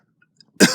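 A single sharp cough bursts out near the end after near silence, close and loud, from a person who has swallowed water and struggles to clear it.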